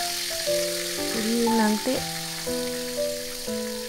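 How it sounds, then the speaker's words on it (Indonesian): Tempeh sizzles in a frying pan with a steady hiss, while a person speaks briefly and background music plays throughout. "saya mau goreng tempe dulu"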